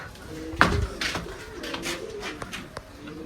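Pigeons coo repeatedly at close range, their soft throaty calls overlapping with a few sharp bumps and scuffles, while someone talks intermittently.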